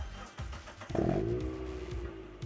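A Mazda Roadster (Miata) engine idles nearby, then gives a short, rising rev around the one-second mark before settling back to a low burble.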